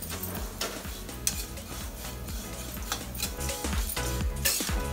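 Poha and almonds being stirred and spread around a frying pan, with a steady scrape and clink of a spatula against metal and some light sizzling underneath throughout.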